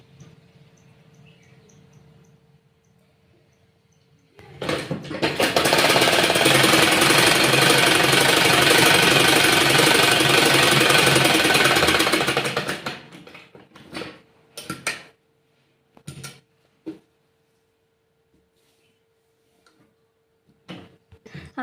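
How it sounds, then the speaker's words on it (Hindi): A sewing machine runs in one steady, loud burst of rapid stitching for about eight seconds while stitching a child's shirt sewn from leftover fabric, followed by scattered clicks and handling taps, with faint talk beforehand. "हमारी सिलाई लग चुकी है"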